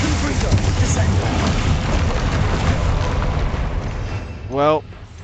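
Spell blasts from a troll fight in the Hogwarts Legacy video game roar as a dense, sustained rumble with a sharper burst near the end.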